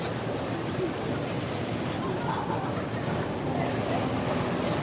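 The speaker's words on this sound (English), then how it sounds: "We are like right beside the train tracks, so everything tends to shake when the trains go by" A train rumbles past on tracks right beside a street in Asakusa, Tokyo, a steady loud broadband roar with rolling low-end clatter holding for the whole stretch.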